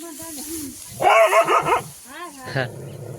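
A dog barks and yips in a short burst of several bright, close barks, with a couple more yelps after a pause, heard among trees near a farm field while people talk nearby.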